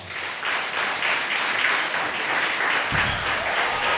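Audience applause at a wedding industry gala, a steady dense wash of clapping from a large crowd filling the room, sustained without pause and fairly loud throughout.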